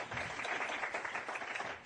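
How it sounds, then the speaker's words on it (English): Steady applause from an audience at a domestic violence training event, a dense wash of clapping filling the whole stretch at moderate level without a break. "Can we get a round of applause?"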